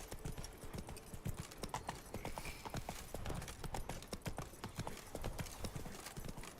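Hooves of the horse in The Witcher 3: Blood and Wine gallop in a quick, steady clip-clop rhythm, fairly faint and close, with a short whinny-like sound.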